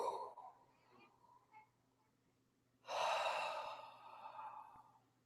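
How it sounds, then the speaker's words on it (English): A big deep breath drawn in sharply and then slowly released, a loud close gasp-like inhale tapering into a long exhale after a quiet stretch of faint breathing. "take a big deep breath."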